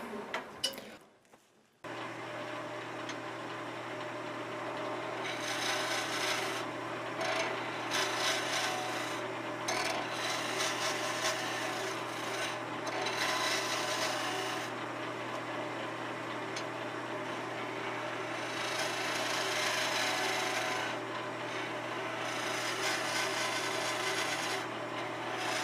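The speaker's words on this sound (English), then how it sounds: "you start the skew with the bevel rubbing. Then you lower the blade by raising the back of the handle until you catch a shaving." Skew chisel roughing a round workpiece on a wood lathe, a continuous close rasping cut over the steady lathe hum, surging and easing with each pass after a brief quiet start.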